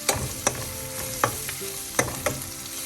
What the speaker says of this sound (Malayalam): അത് ഇതോടൊപ്പം എണ്ണയിൽ കിടന്നൊന്ന് മൂക്കട്ടെ.